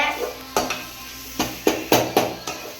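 Masala for dried fish kuzhambu sautéed in a pan, with a faint sizzle under about half a dozen clear scraping knocks of a spoon against the pan, spaced irregularly.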